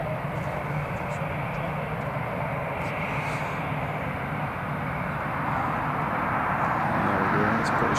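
A British Airways airliner at Newcastle Airport produces a steady, broad jet roar that stays loud and even throughout and swells slightly toward the end, with no talk over it.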